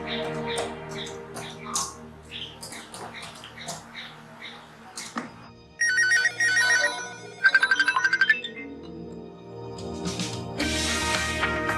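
A phone ringtone alerts residents to elephants moving nearby, sounding as two short bursts of bright, chirping rings in the middle, louder than the quiet background and faint voices around them.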